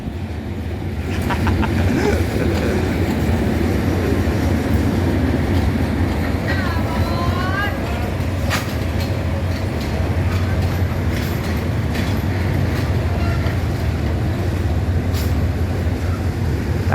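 Train 284 rolls into platform 5 at Bangkok Hua Lamphong station with a loud, continuous rumble, wheel clatter and brake squeal.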